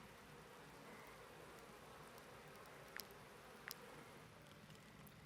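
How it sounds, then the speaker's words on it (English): Bees buzz softly and continuously in the medieval video game Wartales, a low, even drone with two brief sharp clicks partway through and no voices. "She's upset because she keeps being stung by the bees."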